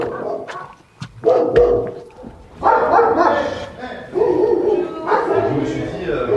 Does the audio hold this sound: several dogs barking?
yes